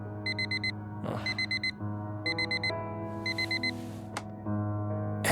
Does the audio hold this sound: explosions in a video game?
no